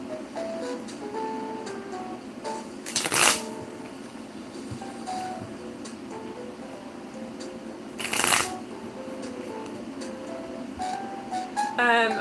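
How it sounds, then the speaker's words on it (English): Two brisk bursts of tarot cards being shuffled, each lasting under a second, separated by a long stretch of quiet room tone with faint background hum. "I want to give this a better shuffle."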